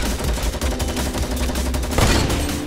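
Rapid gunfire from a Fortnite match, a dense burst of overlapping shots that fires continuously and loudly through the moment with no voices over it.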